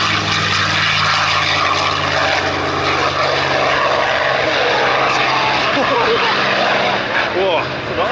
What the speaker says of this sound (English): These amazing fighter planes take off and do their stuff.